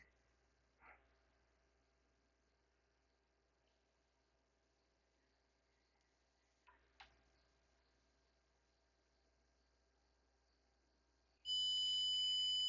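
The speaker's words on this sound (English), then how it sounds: "Hopefully you guys can hear that beep." A continuity tester beeps while probing the pads of a 2002 Mercedes C240 engine computer under repair, one faint beep near the start, another short one midway, then a loud sustained tone at the end.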